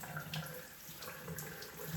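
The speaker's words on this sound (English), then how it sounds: "I turn the water on and just simply wash the neem oil away" Tap water runs steadily over a houseplant in hydroculture pebbles, rinsing off neem oil applied for spider mites; a continuous close splashing flow with no talk.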